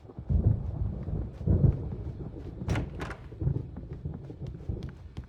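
Thunderstorm in the game Alan Wake Remastered, with low rolling thunder rumbles swelling and fading repeatedly under scattered sharp cracks and knocks, moderately loud.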